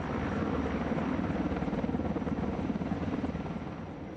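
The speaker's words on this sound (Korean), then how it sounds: "인명구조용 소방 헬기가 투입되고 화마의 길목을 차단하면 초대형 헬기의 순서" A firefighting helicopter flies over a wildfire, its rotor thumping steadily in a dense, rumbling drone that stays close and even before easing slightly at the end.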